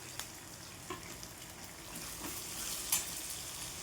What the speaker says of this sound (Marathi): हे पण आपल्याला छान परतून घ्यायचं.